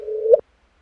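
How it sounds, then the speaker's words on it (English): LIGO's gravitational-wave chirp from two merging black holes of about 30 solar masses each, rendered as a short tone that holds steady, then sweeps upward and cuts off abruptly in under half a second. "that is the sound of two black holes, each of about 30 solar masses"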